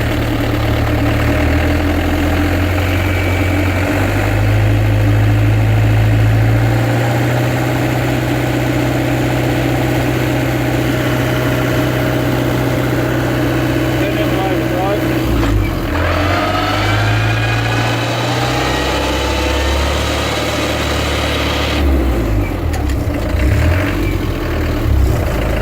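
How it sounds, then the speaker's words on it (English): A car engine drones loudly and continuously in fourth gear overdrive, making a noisy, rumbling whine. The pitch shifts partway through as the engine note changes, and a rougher stretch comes near the end. "It's just that fourth gear overdrive making a hell of a round."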